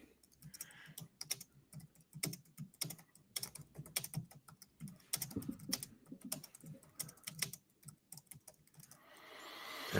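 Quick typing on a computer keyboard, bursts of rapid clicky keystrokes with brief pauses, close and fairly quiet, with no talking.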